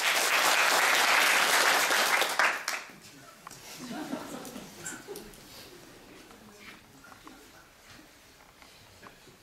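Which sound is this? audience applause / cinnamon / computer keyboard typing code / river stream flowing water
audience applause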